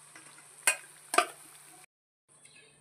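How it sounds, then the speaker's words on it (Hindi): Malai khaja dough pieces frying in hot oil, a thin steady sizzle with two sharp metallic scrapes or clinks of a utensil in the pan, briefly dropping out before the sizzle returns. "अच्छे से फ्राई हो चुका है"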